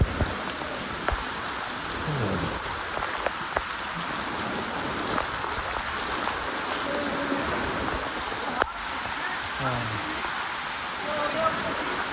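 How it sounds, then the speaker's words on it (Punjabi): Heavy rain pours steadily onto the ground and nearby surfaces, a dense, unbroken hiss with splashing running water around a farm pump site, constant and close throughout. "ਛਿੱਟੇ ਦੇ ਵਿੱਚ ਦੇਖੋ ਜੀ ਤੇਜ਼ ਪੈ ਰਿਹਾ ਛਿੱਟਾ"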